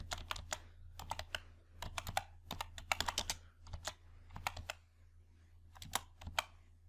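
Computer keyboard keys being typed on while entering data into an Excel spreadsheet, in quick bursts of close, crisp clicks separated by short pauses, with no talking.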